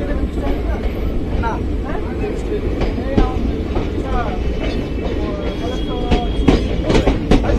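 The Kanchanjungha Express rumbles out of Bolpur Shantiniketan station with a loud, continuous low roar and rhythmic rail clatter, while faint voices talk nearby.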